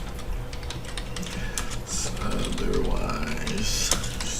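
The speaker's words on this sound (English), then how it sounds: "Alright, let me keep typing here." Computer keyboard typing during AutoCAD drafting work, a steady run of close, quick key clicks with faint background sound.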